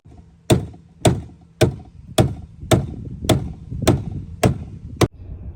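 Nine sharp hammer blows land close by, evenly spaced about half a second apart. Each one rings briefly before the next strike.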